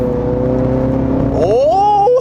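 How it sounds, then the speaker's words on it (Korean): A Mini Countryman JCW car engine drones steadily, then, switched to sport mode, revs up with a rising, throaty exhaust note that climbs in pitch and holds near the end. "오이 배기음"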